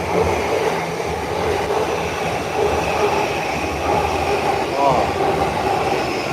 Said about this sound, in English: we got the Yamanote line coming over here